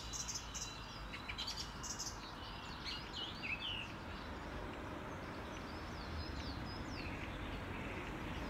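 Several birds chirp and tweet in short scattered calls over a faint continuous outdoor background hum, fairly distant and quiet.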